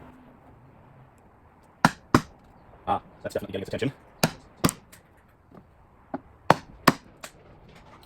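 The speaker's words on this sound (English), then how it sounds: "I'm going to try and get a little farther now with a very sharp wood chisel." A very sharp wood chisel bites into wood on a speaker driver being replaced, giving about a dozen sharp, close cracks and knocks spaced over several seconds, with one quick flurry in the middle and a voice speaking briefly.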